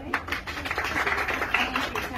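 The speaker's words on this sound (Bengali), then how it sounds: "আজকে তো গ্র্যান্ড ওপেনিং একটা জোরে করতালি চাই" Scattered clapping from a small crowd at a shop's grand opening in a showroom, a short, uneven burst of hand claps mixed with voices talking over it.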